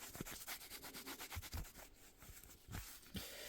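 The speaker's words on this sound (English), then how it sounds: "give it a quick wipe over with a wet wipe" An embossing folder is wiped clean with a wet wipe in quick repeated rubbing strokes, soft rhythmic swishes close by with a few small taps.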